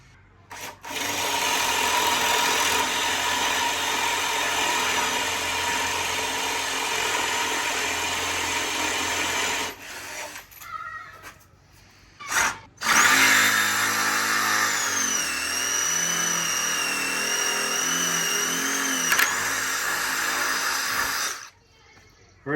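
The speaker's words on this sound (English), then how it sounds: "So I'll drill this first." A power drill runs steadily for about ten seconds, pauses, then bores again with a rising, straining whine as the bit cuts into a wooden stair post.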